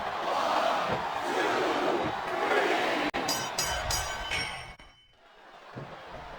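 Arena crowd roar during a women's championship wrestling match in the video game WWE SmackDown vs. Raw 2007, a loud continuous cheering wash with sharp impact thuds near the end before it drops away.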